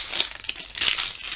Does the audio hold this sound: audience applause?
no